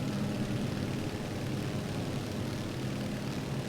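Steady, loud aircraft engine roar from a plane in Microsoft Flight Simulator at Atlanta airport, a continuous droning rumble that holds unbroken throughout with no talk over it.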